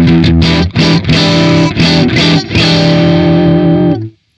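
Distorted electric guitar through a Tank-G pedal with its gain pushed up, several strummed chords ringing with a heavy effects-laden tone, loud and alone, cutting off cleanly at the end.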